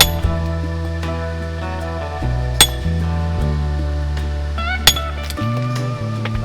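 A steel hammer strikes a Trow and Holden hand set chisel pitching the face of a granite block, giving two sharp, ringing metallic hits a couple of seconds apart over a steady droning hum.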